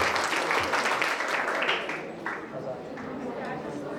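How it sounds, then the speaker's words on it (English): Audience applause at a student speaking session, a dense burst of clapping with some chatter mixed in that fades down to lighter scattered claps by the end. "A round of applause for Rami."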